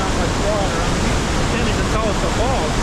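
Ohiopyle Main Falls on the river at high water thunders in a loud, unbroken rushing roar, with people talking faintly over the torrent.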